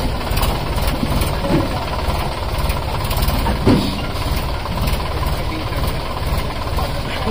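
A Mahindra 265 tractor engine runs steadily close by, a loud continuous low rumble that barely changes, while voices talk faintly underneath.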